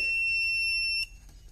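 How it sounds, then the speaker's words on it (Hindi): An inverter beeps steadily with a shrill electronic tone after its feedback connection is pulled during repair, sounding loud and continuous for about a second before cutting off to a low hum. "निकालते ही ये बीप करेगा और ये चार्जिंग करंट बंद कर देगा"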